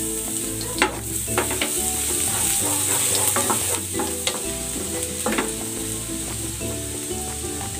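Garlic sizzles steadily in a frying pan during sautéing, with repeated scraping and clinking stirs of a utensil over a continuous frying hiss, close and fairly loud, with no voices.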